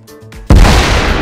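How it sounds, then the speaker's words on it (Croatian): A sudden loud blast erupts midway in the game DayZ, preceded by quieter tonal game sounds, followed by a sustained roaring rumble that stays loud to the end. "eksplozija, bate"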